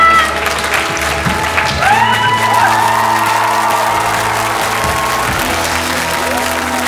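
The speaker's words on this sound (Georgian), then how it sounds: "გავაცილოთ აპლოდისმენტები." A studio audience at a televised Georgian singing competition breaks into sustained applause with whoops and cheers, loud and steady throughout, with music tones holding underneath.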